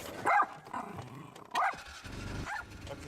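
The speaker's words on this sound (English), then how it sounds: "Okay, we don't need any barking." A dog barks outdoors on a rural property, three sharp separate barks spaced over about three seconds, fairly close and clear with no talking.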